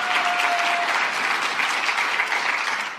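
An audience applauds with dense, continuous clapping that holds evenly from start to finish.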